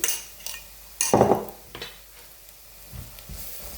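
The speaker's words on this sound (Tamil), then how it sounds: "தூள் கொஞ்சம் இந்த எண்ணெயில் வதங்கணும்" Spice powder frying in oil in a pan for a fish curry, a soft sizzle under a few clinking stirs and one louder scrape of a utensil against the pan.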